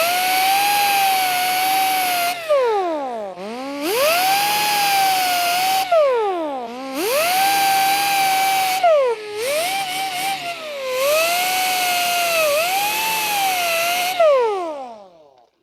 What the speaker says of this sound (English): So I'm just gonna clean the tiny bit of rust here.